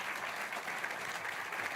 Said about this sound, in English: Can we send them on their way with some applause and cheering to get them on their way?